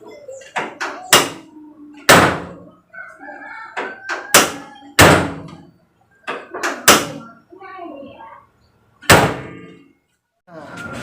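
Doors of a 2012 Nissan Evalia slam shut several times with heavy thunks, scattered across the clip, while a few people talk between the slams.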